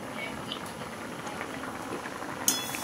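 Pineapple chutney bubbles in a pan while it is stirred. Soft, dense popping and simmering carries on quietly and close, with a sharper bright tap near the end.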